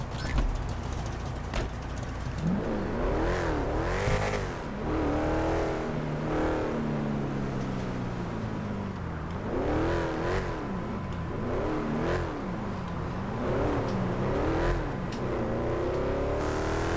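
A car engine in GTA V revs repeatedly, pitch climbing and falling in waves as it accelerates and shifts, steady and moderately loud throughout.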